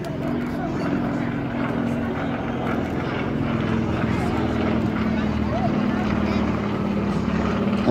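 A Bulldog propeller aircraft drones steadily overhead at an airshow, a continuous engine hum under loud commentary from an announcer.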